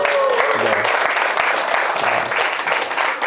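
Audience applauding at the close of a talk by the final presenter at a gathering on law and education, a steady wash of many hands clapping throughout at moderate loudness.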